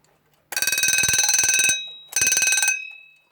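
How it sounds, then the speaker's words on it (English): A vintage wind-up alarm clock's bell clangs loudly and rapidly for about a second, stops, then rings again in a shorter burst as the spring runs down, close and harsh with no voices. "Let's try the alarm."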